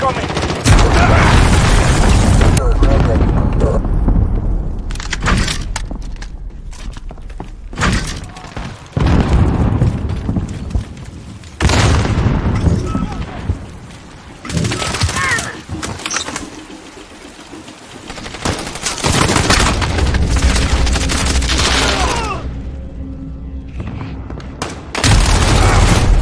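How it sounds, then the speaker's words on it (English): Rapid gunfire bursts and heavy booming cruise missile explosions from the video game Call of Duty Modern Warfare come loud and dense in repeated waves, with brief quieter gaps and game voices mixed in. "Enemy cruise missile incoming."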